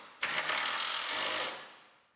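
An impact wrench or power driver runs in one sustained burst, bolting sheet metal down over the radiator of a Fox Body Mustang GT during a rebuild, loud and close, then trailing off.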